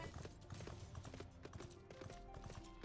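Horse hooves clip-clop in Final Fantasy XIV: a quick, steady trotting rhythm that runs throughout the game scene, with no one talking over it.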